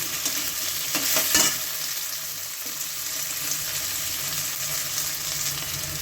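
Potatoes fry with onions, turmeric and salt for ghugni, a continuous soft sizzle with stirring scrapes and a louder clatter early on, no voices.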